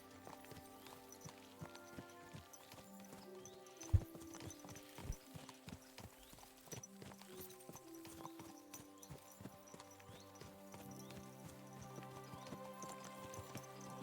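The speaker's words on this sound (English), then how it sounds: "Can't believe I got my own horse, but by stealing it." A horse's hooves clip-clop at a walk in the medieval game Kingdom Come: Deliverance II, steady hoof beats under a musical score, with a couple of sharper thuds partway through and no voices.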